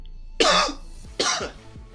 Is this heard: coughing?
yes